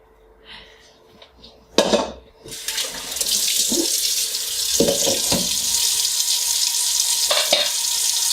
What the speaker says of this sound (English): While waiting for the water to be filled up into my pot